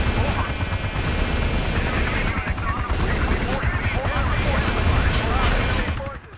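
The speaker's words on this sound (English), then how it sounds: "Sniper got me." Gunfire in a Battlefield 2 battle, with rapid bursts of shots and booms crackling nearly nonstop, loud and close, trailing off at the end.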